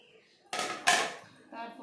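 Green mangoes and green chillies are tipped into a metal cooking pot, giving two quick close clattering thumps followed by a softer rattle as the pieces settle.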